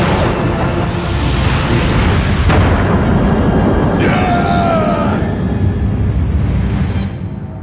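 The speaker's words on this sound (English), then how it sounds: "Did anyone hear an explosion or something?" Animated grenade explosions in a cartoon about the moon nearing Earth come as a loud, dense rumbling boom with bursts and debris, filling the clip before fading out near the end.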